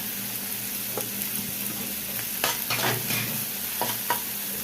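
Onions, ginger and garlic sizzle and fry steadily in a pan, with a few scraping stirs of a utensil now and then, close by and without speech.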